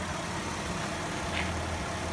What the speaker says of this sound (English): Okay, today guys, I've got a 1999 Mercedes-Benz ML320, and I start with the engine.